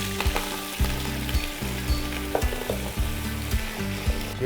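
One kilogram of cooked mutton sizzles loudly in hot oil, with a steady crackling hiss broken by regular scraping knocks of stirring.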